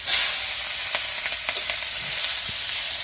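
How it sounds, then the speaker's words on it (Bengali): Boiled eggs frying in a pan give a continuous bright sizzle and hiss up close, with a few light clicks and scrapes of stirring, no voices. "আর আমার ডিম এভাবে সিদ্ধ করে ভাজা খেতে ভালো লাগে।"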